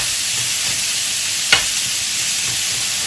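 Steak frying in olive oil in a pan for a Philly cheesesteak, giving a loud, constant close-up hiss and sizzle with one brief sharp clack midway, with no voices.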